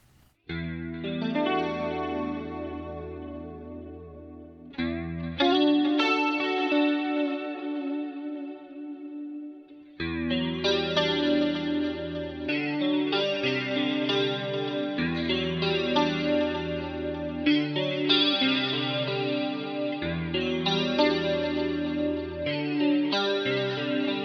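Music Man Cutlass electric guitar with a shimmering 80s chorus tone and a touch of echo, ringing chords and melodic lines played continuously for over twenty seconds, with one brief pause near the ten-second mark.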